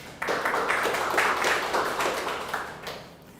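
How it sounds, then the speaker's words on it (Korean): A church congregation at a Wednesday worship service bursts into applause, steady broadband clapping rising sharply, holding for about two and a half seconds, then fading out, with no talking over it. "하나님께 영광의 박수로."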